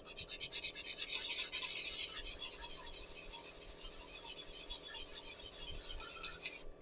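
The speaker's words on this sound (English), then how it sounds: "So doing this dry sanding" Dry sanding a pen blank produces continuous rapid rasping and scratching with a rhythmic back-and-forth rubbing, fairly quiet and close, with no speech.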